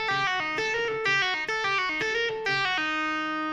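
Electric guitar tapping phrase from a guitar solo, a quick repeating run of bright, evenly spaced notes played in groups, close and clear with light distortion and no voices.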